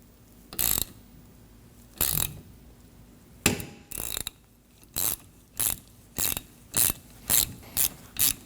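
Puller being tightened on a Ford Edge wiper arm, a close, crisp ratchet clicking in short bursts, two spaced strokes at first, then a steady run of quicker, evenly repeated ratcheting.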